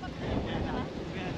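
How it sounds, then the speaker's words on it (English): Wind blows at a Mexican beach town around sunset, a short burst of steady, rough rumble buffeting the microphone. "It got a little bit more windy, but it still feels fresh though."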